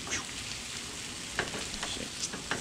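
Sunny side up eggs frying in a pan, a steady close sizzle and crackle of hot oil with occasional small pops and light scrapes.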